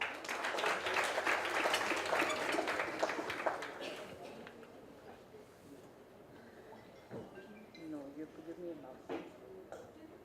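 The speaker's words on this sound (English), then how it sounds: "Ladies and gentlemen, please give her a round of applause" An audience at a landscape architecture scholarship programme event gives a round of applause, dense clapping for about four seconds that fades out, followed by a quieter room with a voice beginning to speak.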